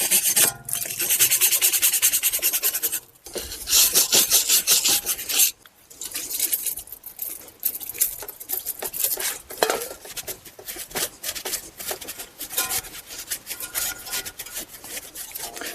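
Rust scrubbed off a front brake rotor hub on a 2010-2017 Chevy Equinox or GMC Terrain, loud close rasping and scraping strokes repeating continuously with brief pauses.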